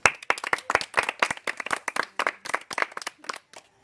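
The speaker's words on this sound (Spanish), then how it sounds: "Bueno, todos están aplaudiendo igual." A small group claps along in quick, uneven bursts, distinct individual hand claps close by rather than a smooth wash, tapering off near the end.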